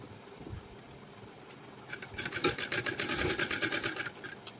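A sewing machine stitches the neckline of a blouse, starting after a quiet pause and then running in a fast, close, rhythmic chatter for the last few seconds.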